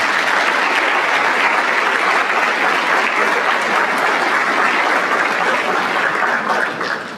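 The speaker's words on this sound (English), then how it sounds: "Let's give a heartfelt round of applause to all the families in attendance tonight." A large audience at a school district scholarship night claps in a sustained, dense wash of applause that stays loud throughout and only thins slightly at the very end.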